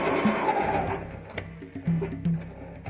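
Sewing machine stitching a four-hole button onto fabric, a quick burst of mechanical whirring at the start followed by softer intermittent clicks and low hums as the needle swings between holes.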